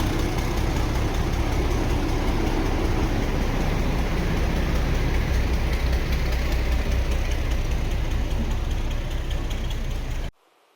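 The Palakkad Superfast Express train arriving from the pit yard, a loud, steady low diesel engine rumble and idling throb close by, continuous until an abrupt cut at the end.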